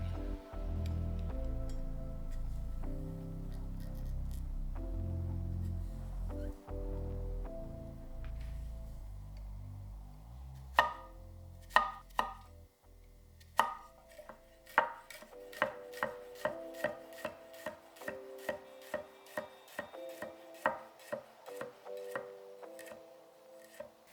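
A 280mm CuMai Damascus gyuto knife chopping an onion on a board, starting with slicing and rasping strokes, then a run of crisp, evenly spaced chops that speed into a quick steady rhythm, close and clear with no talking.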